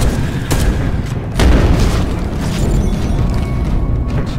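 Missile launcher explosions boom in Space Hulk: Deathwing, several heavy thuds and blasts at irregular intervals, one especially loud hit early on, over continuous rumbling combat noise.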